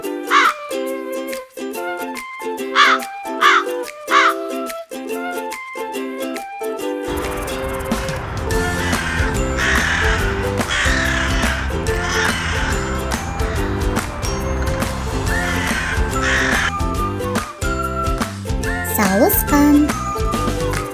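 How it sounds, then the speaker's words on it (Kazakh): A wild crow caws in a series of harsh, spaced calls, first over near silence, then continuing within a busy musical backing track. "Қарға."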